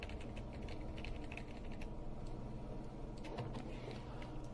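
Computer keyboard arrow keys pressed in a steady run of light clicks while an object is nudged in Unreal Engine 4, sitting over a constant low background hum with a few brighter taps toward the end.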